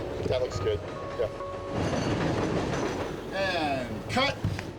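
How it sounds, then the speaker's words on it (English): Train rolling along the tracks on a film set, a steady rumble with clicking wheels and occasional squeals, heard under people talking. "The train's gonna have to go in and out quite a few times."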